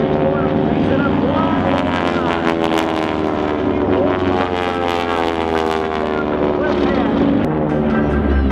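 Aeroshell aerobatic team aircraft performing a barrel roll at a twilight prairie air show, a loud sustained propeller engine drone with shifting harmonic pitch, with a commentator talking over it.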